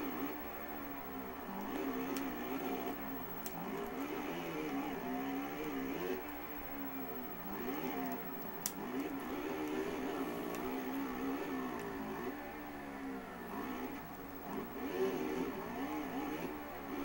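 Motocross bikes racing in the MXGP video game, a steady droning engine roar with shifting revs running continuously throughout, loud and unbroken, with no talk over it.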